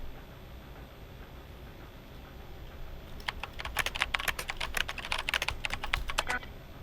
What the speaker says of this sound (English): Use your keyboard to talk to Kaizen